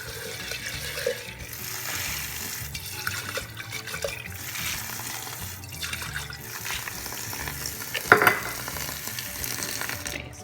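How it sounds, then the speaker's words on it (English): Wet sprouting seeds tip from a jar into a strainer, a wet rattle and splash with dripping water that swells into a louder clattering burst near the end, with no talk. "I pour it into the strainer, dump all the seeds out."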